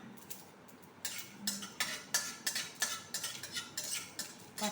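A utensil stirs panch phoron spices in hot oil in a pan, making a series of quick, close scraping and clinking strokes in an irregular rhythm with no talking.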